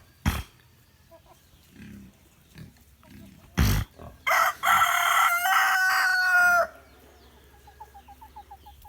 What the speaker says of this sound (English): Hey, pigs!